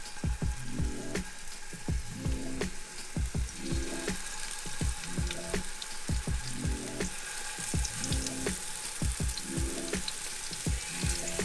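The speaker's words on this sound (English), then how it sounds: "Get a nice sizzle." Turkey meatballs sizzle steadily in oil in a 10-inch frying pan, with rhythmic clinks and scrapes of a utensil stirring and tapping throughout.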